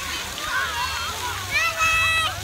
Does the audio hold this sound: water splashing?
yes